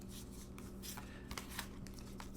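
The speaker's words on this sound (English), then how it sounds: "So as I shuffle, take a deep breath" Tarot cards are shuffled by hand, a soft continuous riffling and rubbing with scattered light slaps, faint and close.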